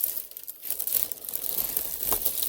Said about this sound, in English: let's take out the keyboard out of the box